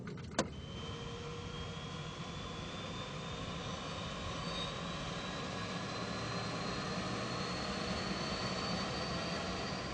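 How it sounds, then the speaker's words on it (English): Aircraft engines start on a geological survey plane: a click, then a rising turbine whine that climbs steadily in pitch over a broad, constant roar, close and continuous. "we're ready to start the engines anytime"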